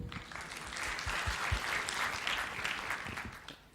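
Audience applause in a hall at a security conference in Kuala Lumpur, welcoming a speaker; a sustained, even wash of clapping from many hands for several seconds, fading out at the end.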